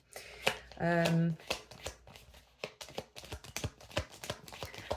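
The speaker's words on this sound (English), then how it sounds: "Let's pull some more cards." Tarot cards being shuffled and pulled, with a quick rapid riffle followed by soft flicks and taps of cards against a table, while someone talks close by.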